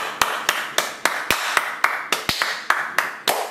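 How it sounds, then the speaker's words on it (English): A dozen sharp hand claps in a steady rhythm, close and loud, roughly three per second, with nothing else in between. "We do a clap."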